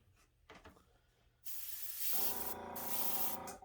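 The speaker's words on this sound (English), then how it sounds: "Make sure I get the water out of the brush before I spray." After a couple of soft clicks, an airbrush bursts into a steady, close hissing spray of orange paint onto a homemade fishing bait, continuing with brief dips.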